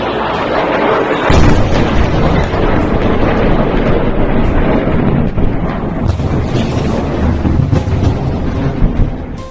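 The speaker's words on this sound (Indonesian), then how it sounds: "Oh iya, lihatlah ledakan ini." Missile strike explosions from an Iranian attack on Israel, heard as a loud, continuous deep rumble and booming roar with wind buffeting the microphone, sustained throughout without talk.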